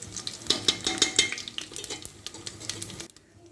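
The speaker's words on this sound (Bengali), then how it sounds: "তারপরে দেখো শুকনো লঙ্কা। তো এটাকে একটু ভাজা ভাজা করে নেব।" Dried red chillies with panch phoron and cumin frying in hot oil, a steady sizzle under scraping stirs and a few bright metallic clinks of a utensil against the pan, then it drops away near the end.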